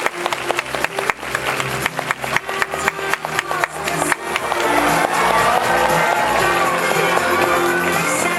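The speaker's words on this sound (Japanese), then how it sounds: "どうぞ拍手でお迎えください。" An audience at a Japanese film premiere with a stage greeting claps to welcome the director and cast, scattered claps at first swelling into loud, sustained applause with cheering and whoops from the crowd.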